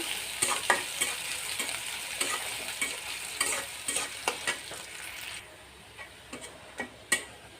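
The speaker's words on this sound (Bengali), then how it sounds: "পেঁয়াজ কুচি দিয়ে দিলাম। এখন এটাকে নেড়ে চেড়ে ভেজে নেব বাদামি কালার করে।" Chopped onions frying in a pan for a jute-leaf dish, a steady close sizzle broken by repeated sharp scrapes and clicks of stirring, continuing alone with no talk.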